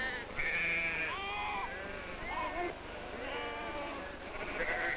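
Several fat-tailed sheep bleat repeatedly at close range in a desert, their wavering cries overlapping one after another over a quiet background.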